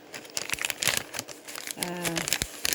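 A plastic packet of professional carrot seeds from the Netherlands crinkles and rustles in quick bursts, close up, with a brief voice partway through.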